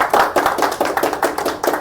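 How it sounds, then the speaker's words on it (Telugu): An audience at a Vestige gathering claps loudly and in unison, with sharp, evenly spaced bursts about three to four per second. The clapping is close and steady throughout, with no talking. "సో గట్టిగా ఒకసారి క్లాప్స్ కొడతాం."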